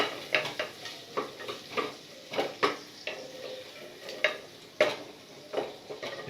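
Whole onions sautéing in oil in a pot, with a steady soft sizzle broken by a rhythmic series of spoon stirs and scrapes, close and fairly clear.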